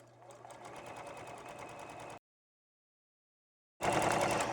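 Sewing machine chain-stitching quilt fabric pieces right sides together at a quarter-inch seam, a steady close whirring run that stops dead for over a second, then restarts louder and continues.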